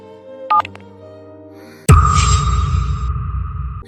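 A few short telephone keypad beeps sound, followed by a steady ringing tone on the line that continues to the end.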